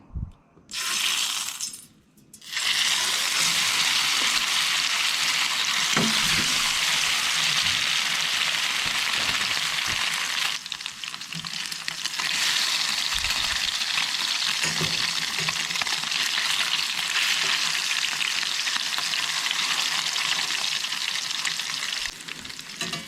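Pikeminnow (squawfish) fillets fry in a little oil in a pan, giving a loud, steady, dense sizzle that runs nearly unbroken, with a brief quieter dip near the start and faint clinks in between.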